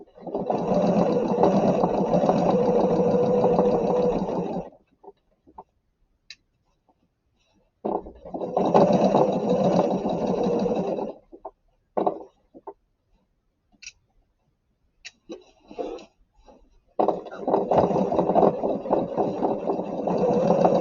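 Sewing machine stitching over a thick fabric seam, three long steady whirring bursts broken by pauses with small clicks and short restarts, close and fairly loud.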